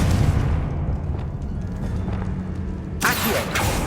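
Confringo blast spell from Hogwarts Legacy, a rumbling fiery explosion that decays over several seconds before a sharp second burst of crackling debris near the end.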